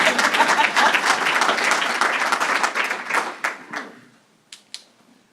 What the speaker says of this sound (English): You guys can clap for me,